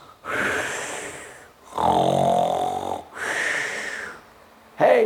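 A voice imitates loud snoring: three long, rasping snores with brief pauses between them, close and forceful, and a fourth starting at the end.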